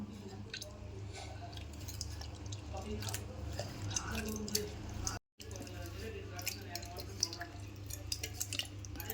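Tomatoes and tamarind are mashed and squeezed by hand in a bowl of water for a rasam, making wet squelching, dripping and sloshing sounds close up against a steady low hum.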